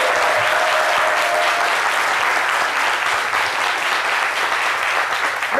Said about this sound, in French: Merci de l'applaudir très très fort.